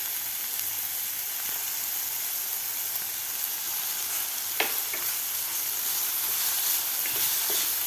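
Onion and ginger-garlic paste sizzle steadily in a hot pan, a dense, even frying hiss with a few faint clicks of a spoon, close and continuous with no talking.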